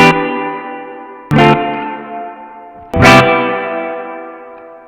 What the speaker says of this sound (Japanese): こんな感じでエフェクト音が残り続けます